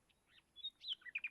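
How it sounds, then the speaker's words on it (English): A small bird chirps in a quick series of thin, high tweets, faint and distant at first, then closer, clearer notes in rapid succession with no other sound. "The bird that sings my name."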